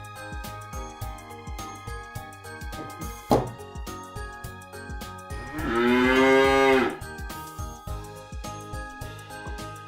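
A cow lets out one long, loud moo near the middle, over a backdrop of rhythmic tinkling bells and a steady beat, with a brief sharp sound just before it.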